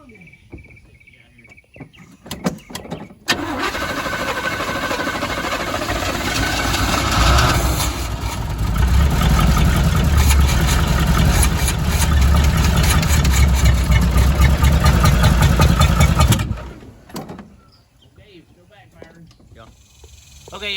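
An old Chevy square body pickup truck with a suspected failing fuel pump, its engine running roughly and loud and close for about thirteen seconds before cutting out, with bursts of speech and clatter before and after.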